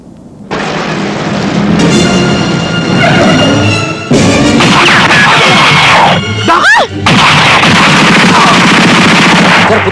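Loud rapid bursts of gunfire with booming reports and sharp cracks, dense and continuous for several seconds, with a short gap midway.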